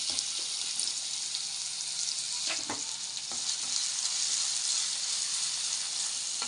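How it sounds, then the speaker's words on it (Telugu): Capsicum fries in a little oil in a pan, giving a steady bright sizzle with a few sharp stirring clicks partway through. "రెండు స్పూన్లు నూనె వేసాను అందులో క్యాప్సికమ్ వేసుకోవాలి"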